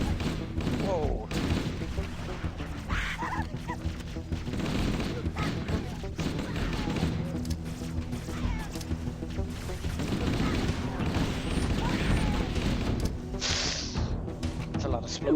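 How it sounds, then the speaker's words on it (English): Dense gunfire and explosions from the PC shooter Halo: Combat Evolved Anniversary form a continuous battle din, with voices talking over the steady rumble and rattle. "It's a lot of explosions."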